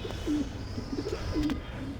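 Racing pigeons packed into a basket give soft, low cooing calls, two clear coos about a second apart over a steady background rumble.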